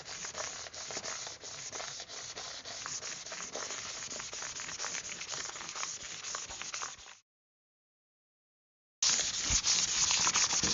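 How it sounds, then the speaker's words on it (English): A small sanding block lightly keys the surface before adhesive goes on for a semi-flexible solar panel install, giving a continuous close scratchy rasp. It breaks off for about two seconds of silence, then resumes. "I'm going to use a little sanding block, and I'm just going to key in the surfaces very, very lightly"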